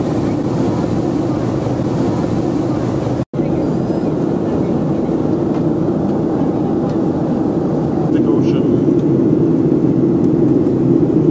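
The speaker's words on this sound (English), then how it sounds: "the takeoff was fast and it went like straight up almost" A passenger jet takes off fast and climbs steeply, heard from inside the cabin as a loud, constant engine roar and rumble with a brief dropout partway through.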